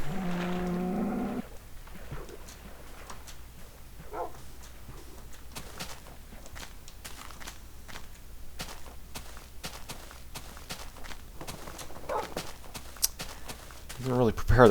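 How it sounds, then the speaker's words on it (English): Cows in Minecraft moo briefly at the start and again near the end, while someone talks over them and soft game sounds and steps continue in between. "Swimming cows. The old water cow."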